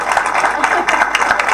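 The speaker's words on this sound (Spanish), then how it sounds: "a quien también le damos un aplauso inmenso" An audience claps loudly at a 50th anniversary celebration of an adult school, a dense continuous patter of applause close by with overlapping voices.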